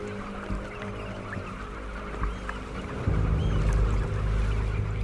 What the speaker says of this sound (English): Eider ducks.